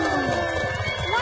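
Horse hooves of a circus bareback-riding act, a brisk clip-clop patter beneath a continuous animated soundtrack with music and a voice over it, with a whinny-like rising tone near the end.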